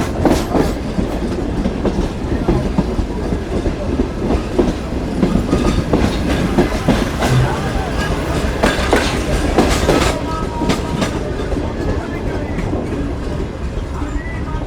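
A Shalimar Express passenger train runs between Bahawalpur and Karachi with a loud, continuous rumble and rhythmic clickety-clack of wheels over rail joints, heard from inside the carriage, with faint voices in the background.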